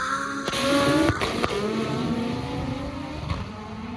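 Sand car pulling hard through first and second gear, engine pitch climbing and then dropping at each shift, with sharp mechanical clunks, heard at moderate level from inside or near the vehicle.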